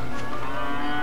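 A cow in Dragon Quest 8 lets out a single sustained moo, loud and close, with a steady droning tone over the whole moment.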